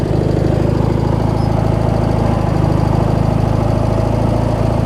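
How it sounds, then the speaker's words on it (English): A Craftsman riding mower's Briggs & Stratton opposed-twin engine idles down, a loud, close, steady low throbbing rumble that runs unbroken without any talk. "Let's let that thing idle down."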